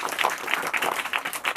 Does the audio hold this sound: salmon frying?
no